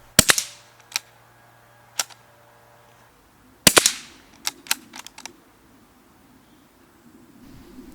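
Sharp, close .22 LR rifle shots from a Hatsan Escort, fired at a target backer outdoors: one before a gap and then several more in an uneven sequence, each a crisp crack with a short tail, with no talking.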